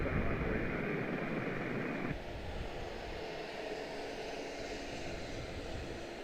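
A 10-year-old airliner bound for Norfolk rolls for takeoff at Washington Dulles, a steady, broad engine roar that is loudest at the start, then eases slightly and continues as an even rushing drone.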